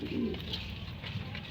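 A domestic pigeon gives soft, low cooing during courtship, steady and fairly close against a quiet hum of background noise.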